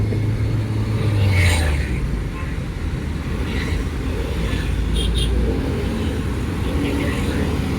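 From inside a car pulling away in first gear during a driving lesson, a low, steady engine rumble rises briefly at the start, with voices talking over it.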